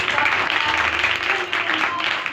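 A Christian congregation at a ministry gathering in Pakistan breaks into loud, sustained applause, a dense continuous patter of many hands heard alone.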